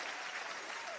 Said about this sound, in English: Keep it up. Let's hear that applause.